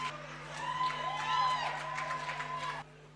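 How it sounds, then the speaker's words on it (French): Wedding guests clap and cheer together: a moderate wash of applause with a few whoops rises and falls, then cuts off near the end, with a steady musical tone and some voices underneath. "Applaudissez, s'il vous plaît."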